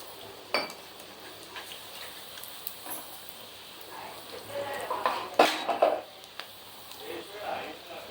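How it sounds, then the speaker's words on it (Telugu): Sago pakodas frying in oil in a pan are stirred with a utensil: soft sizzling under irregular scrapes and metallic clinks against the pan, with some louder knocks partway through, heard close. "అటు ఇటు కలుపుతూ ఉండాలండి లేకపోతే మాడిపోతాయి"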